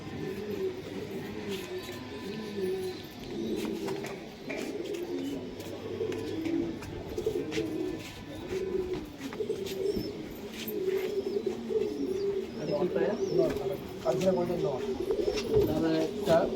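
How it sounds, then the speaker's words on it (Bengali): Pakistani high flyer pigeons in a loft give soft, repeated throaty coos and occasional chirps, close by and fairly quiet, with faint voices now and then. "পাকিস্তানি হাই ফ্লায়ার পায়রা দেখবো আমরা"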